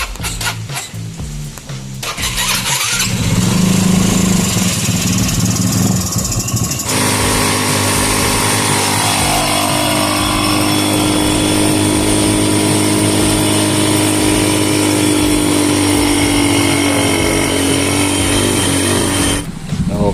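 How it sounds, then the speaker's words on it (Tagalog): Easy Ride 150N motorcycle idling during a tuning test after a wiring fault, the engine catching after a rough start, then running loud and steady with a constant buzzing drone close to the mic, no talking. "Okay, ito nga, testing na tayo. So sa oras na to ay tinutono ng konti ang ating Easy Ride 150N."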